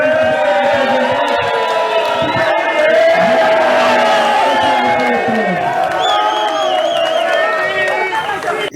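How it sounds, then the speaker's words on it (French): A huge crowd chants and sings a name at the close of a trophy ceremony for the DGDP championship team, a loud dense wall of massed voices with whoops and cheers rising throughout. "une foule immense chantant et scandant le nom de Baba Zivé"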